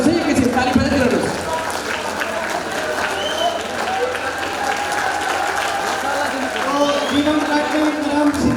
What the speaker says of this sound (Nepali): ताली नरोक्नुहोस् है, एकैछिन ताली बजाइदिनुहोस्।